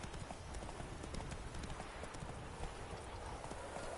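Hooves of the horse Roach clip-clop in a steady trotting rhythm in The Witcher 3, faint and continuous over a low outdoor ambience.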